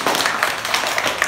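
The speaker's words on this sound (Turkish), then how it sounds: "bir alkışlayalım önce bir." A classroom of first-grade children clap their hands together during a maths game, a quick, loose flurry of overlapping claps that stays fairly loud and close for just over a second.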